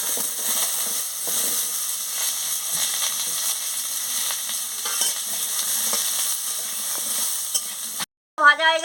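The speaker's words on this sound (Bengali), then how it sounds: "এবার আমি আলুগুলোকে ভেজে নিচ্ছি।" Potatoes sizzle steadily as they fry in a pan on the stove, with a spoon stirring and scraping through them. The frying noise carries on without a break for about eight seconds, then stops suddenly and comes back briefly at the end.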